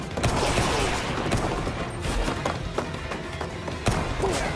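Pistol gunshots in an anime fight scene as a gangster is shot down, a handful of sharp reports standing out over a dense, busy soundtrack of scuffling and impacts.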